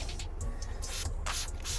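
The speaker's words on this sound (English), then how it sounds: "And I spray my mitt for this" Several short hissing bursts of a spray bottle onto a wash mitt for detailing a Golf Mk4 GTI 1.8T, close by, spaced irregularly over a low background hum.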